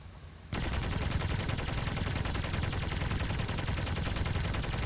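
Rapid video game gunfire from an Aurora-type weapon erupts after a brief quiet start, then continues as a dense, loud, unbroken barrage of shots to the end.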